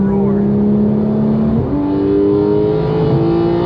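Close, steady roar of a Porsche 991.2 GT3 flat-six exhaust pulling under acceleration, with one brief dip and then continued climbing revs for a few seconds.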